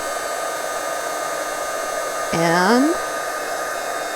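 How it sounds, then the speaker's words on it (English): A heat gun blows a steady, loud whirring hiss while embossing powder is melted on a handmade Christmas snowflake card, with one brief spoken word over the constant airflow. "I love heat embossing."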